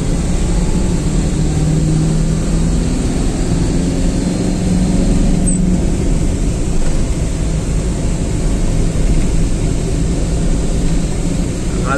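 A red MSRTC state bus overtaking on the Kashedi Ghat mountain road, its engine droning loud and steady with road rumble throughout.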